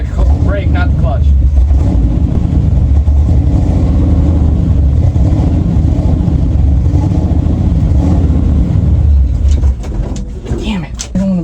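A big block farm truck engine rumbles loudly and unevenly, revving and labouring for several seconds before dropping off near the end, with voices heard briefly.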